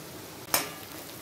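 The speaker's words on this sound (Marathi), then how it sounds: "त्याच्यामध्ये मी बारीक चिरून घेतलेला 2 कांदा घालून घ्यायला। कांद्याला आम्ही भाजून घ्यायचं।" Chopped onion and green chillies fry with peanuts in a pan, a low steady sizzle broken by one sharp burst of hissing as more food hits the hot oil, then settling back down.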